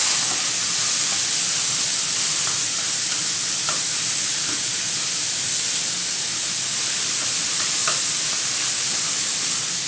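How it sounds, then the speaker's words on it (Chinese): Tomatoes and onions being stir-fried hard in a pan give off a steady, loud, hissing sizzle, with a few faint scrapes of the utensil against the pan. "用力翻炒，真的要用力翻炒。"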